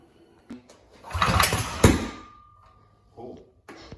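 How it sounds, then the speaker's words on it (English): A rebuilt Predator 212 hemi small engine is cranked after fueling, giving a loud burst of rough engine noise that sputters briefly before fading, surrounded by short knocks and handling sounds. "Fill it up with some gas and see if it'll start."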